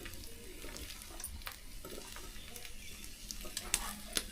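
A ghavane rice crepe sizzles quietly in a hot pan while it is flipped, giving a soft, steady frying hiss with a few faint scrapes and clicks toward the end.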